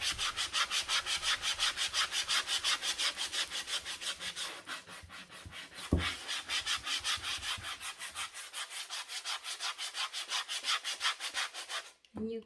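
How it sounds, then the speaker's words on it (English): Handheld sanding block rubbing across wood in steady, rhythmic back-and-forth strokes, close and clear, with a short pause near the end. "I'm just gonna sand down a little bit."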